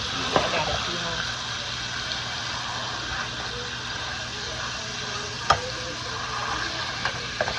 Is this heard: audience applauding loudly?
no